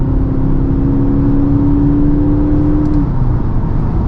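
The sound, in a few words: Audi SQ5 diesel accelerating at full throttle, dynamic mode sound generator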